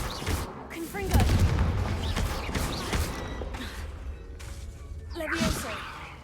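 Confringo fire spell cast in the Hogwarts Legacy video game, loud booming bursts with whooshing swishes and crackling impacts layered among other spell effects over several seconds.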